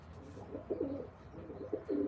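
Pigeons at a pigeon-flying gathering give low, rolling coos in a few short phrases, fairly close and alone against a soft background hum.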